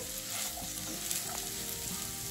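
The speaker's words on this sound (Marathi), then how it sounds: "आता हा आपण टाकून घेऊया आणि साबुदाण्याला छान आपण मिक्स करून घेऊ" Soaked sabudana being stirred in a frying pan for sabudana khichdi gives a steady, close sizzle with soft scraping from the stirring.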